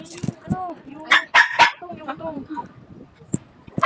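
A small dog yips and barks in short bursts, close and loud, with people talking in between.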